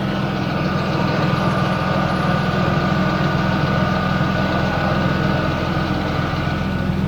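Turbocharged BMW E30 with a T04E turbo running at 1 bar of boost, idling close by with a steady, even engine drone that holds level throughout, with no hunting and no talking.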